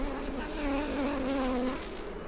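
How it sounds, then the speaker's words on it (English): Dense, close buzzing of honey bees swarming around an open backyard hive, a continuous droning hum with wavering pitch and no voices. "There's a lot of bees in this one."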